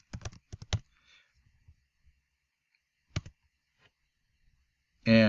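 Keys on a computer keyboard clatter in a quick burst of typing a command, followed by scattered isolated clicks with quiet gaps between, then a louder final keystroke, no talking.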